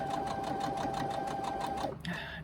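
A sewing machine stitches the hems of a crossbody bag, a rapid even run of needle strokes with a motor whine, close up, stopping abruptly near the end.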